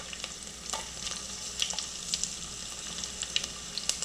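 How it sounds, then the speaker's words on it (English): Cumin, mustard seed and garlic cloves sizzle and fry in hot oil, a steady close crackle with scattered sharp pops and light stirring scrapes throughout. "Just give a quick saute. Let the garlic infuse its flavor and oil."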